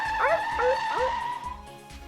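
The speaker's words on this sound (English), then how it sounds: "the bus that had left the two far behind suddenly braked" A bus in the video game Root Double brakes suddenly, its tires skidding with loud, wavering squeals that sweep up and down before settling into one long, fading screech.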